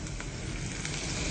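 Chopped garlic and chili hit hot oil for aglio olio e peperoncino pasta, giving a steady, even crackling sizzle that holds close and constant throughout, with no voices.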